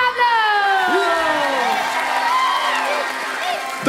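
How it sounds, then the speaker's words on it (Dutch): Theater audience at a Sinterklaas show applauding and cheering, with whoops and sliding shouted tones over a steady wash of clapping, loud and close. "Geef hem een daverend applaus"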